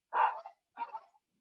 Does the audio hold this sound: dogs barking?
yes